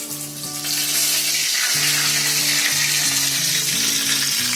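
Whole Shetka fish fry loudly in a pan, a strong continuous sizzle and crackle as water inside the fish spits in hot oil, with a low tonal hum running underneath.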